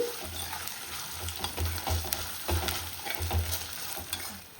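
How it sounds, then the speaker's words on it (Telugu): Ginger garlic paste sizzles in hot oil for mutton kheema, a soft continuous frying crackle broken by repeated scraping stirs of a spoon in the pan, heard close with no talk. "ఈ అల్లం వెల్లుల్లి పేస్ట్ కూడా పచ్చి వాసన పోయే వరకు బాగా ఫ్రై అవ్వాలి."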